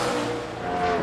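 Jeff Green's #1 Pennzoil race car at speed during practice for the 2003 Southern 500, running about 176 mph down the back stretch; a steady, loud engine roar with a sustained tonal whine for the full second, no voices.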